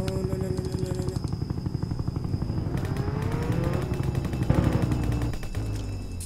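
An army helicopter in Roblox Jailbreak beats with a steady rhythmic rotor chop and engine whine, loud and continuous, while rapid gunfire crackles over it throughout.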